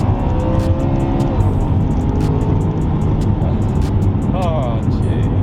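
A BMW E92 M3 track car's engine drones loudly and steadily on a circuit, with regular clicks and brief pitch shifts as gears change, and a voice talks over the cabin noise.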